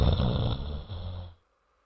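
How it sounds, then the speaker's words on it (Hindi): A person snoring indoors, one long rasping inhaled snore that is loud and close, then breaks off sharply into near silence. "आराम से खर्राटे मारकर सो रहे थे"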